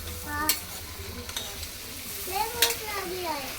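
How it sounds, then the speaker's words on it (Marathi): A mixture being sautéed in oil, with a steady sizzle under stirring and a few sharp spoon scrapes; someone talks over the cooking. "असं हे थोडंसं परतून घ्यायचं तेलामध्ये."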